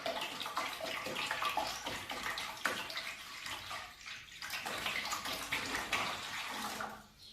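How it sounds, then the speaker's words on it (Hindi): Water poured from a bucket into a metal plate to half fill it, a steady splashing, rushing pour close by that runs for several seconds before tapering off near the end. "आपने पानी इतनी मिकदार में भरना है कि थाली आधी भर जाए।"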